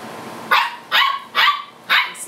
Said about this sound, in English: Sounds like my golden doodles are fighting.